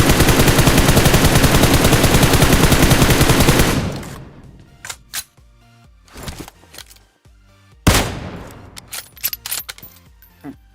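Rapid automatic gunfire bursts loudly for nearly four seconds in PUBG Mobile, then scattered single shots and short volleys follow, with one sharp loud report near the end.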